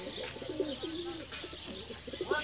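Close soft cooing of a captured male desi pigeon in a home, a steady rolling coo repeated through the moment with a few faint chirps, no talking.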